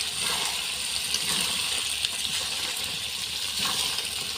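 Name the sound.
water poured into cooking chicken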